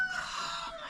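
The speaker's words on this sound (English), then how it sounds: "somebody on the other end has roosters, and ours keep going back and forth with them" Roosters crowing back and forth on an off-grid homestead, one call answering another, a drawn-out crow filling the whole second at moderate volume over a faint outdoor background.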